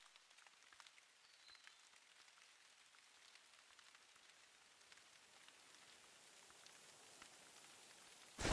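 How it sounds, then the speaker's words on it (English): Steady rain patters across the whole stretch in a hunting video game, a dense hiss of drops on surfaces that stays even throughout, with a brief louder burst at the very end. "And now it's raining."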